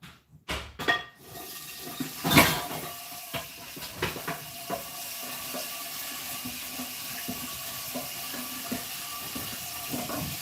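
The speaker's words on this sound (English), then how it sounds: "Wash this frying pan first." A frying pan being washed in a kitchen sink: a few sharp clanks and knocks at the start, then running tap water splashing and hissing steadily, with occasional light taps of the pan against the basin.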